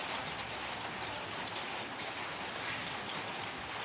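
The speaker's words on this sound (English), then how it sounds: "now today it's raining" Rain falls steadily as an even, dense hiss that stays constant from start to finish, with no voices.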